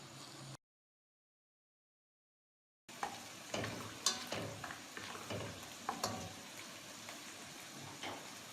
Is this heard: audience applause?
no